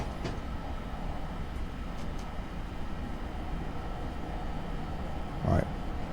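Electric train rolling along the North Jersey Coast Line in Train Simulator, a steady dense rumble of wheels and motors throughout with a brief louder thump near the end.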